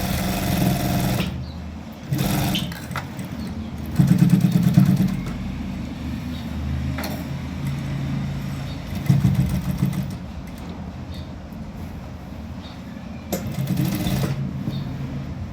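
Sewing machine stitching a shirt collar, with bursts of close, buzzing rapid stitching separated by pauses and quieter machine hum, some lasting a second or two.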